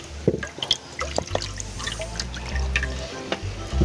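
Grapefruit juice poured into a dessert mixture alongside simple syrup and water, close irregular drips and splashes of liquid with small clinks, a short pour with no talk.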